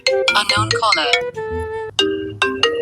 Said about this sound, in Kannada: ಓ ಅಳ್ಯಾರ ಫೋನ್ ಬಂತಪ್ಪ